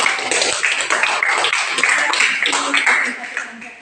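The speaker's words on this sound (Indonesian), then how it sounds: "Tepuk tangan dulu untuk kelompok 5" Classroom applause for a student presentation group, brief scattered clapping from a class mixed in with talking voices throughout.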